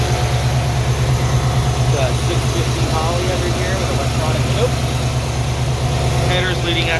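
A GM Performance 350 5.7 liter crate engine idles in a restored 1950 GMC pickup with dual exhaust, a steady, loud, low rumble throughout while someone talks over it.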